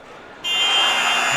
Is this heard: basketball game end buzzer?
yes